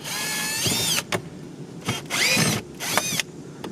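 A power screwdriver takes out screws from the panel beneath the steering wheel of a 2009-2018 Dodge Ram, sounding in several short whirring bursts with pitch sweeps and quiet gaps between them.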